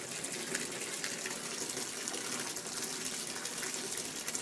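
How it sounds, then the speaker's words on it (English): Water gushes steadily from a tap into a filling bathtub, a continuous splashing hiss without pauses or voices. "So I'm just going to let the water run."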